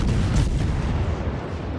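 Naval guns fire in World of Warships, a heavy booming salvo that rolls into a sustained, loud, low rumble for the whole stretch.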